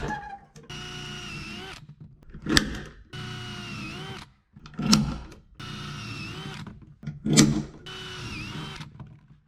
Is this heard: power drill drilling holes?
yes